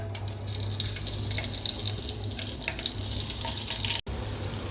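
Whole cinnamon pieces, small and large cardamom pods and cloves fry in hot oil for a chicken curry, giving a dense, steady, close-up sizzling hiss that cuts off abruptly near the end.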